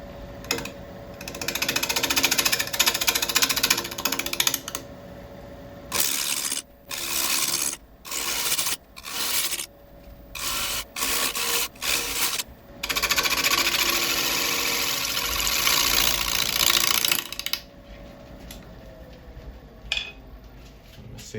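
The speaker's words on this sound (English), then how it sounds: "carrying on with the 3/8 inch bowl gouge, and we'll start to turn at about 800 RPM" A 3/8 inch bowl gouge cuts into burl wood spinning on a lathe at about 800 RPM, a loud rasping scrape that breaks into choppy intermittent bursts midway before running steadily again.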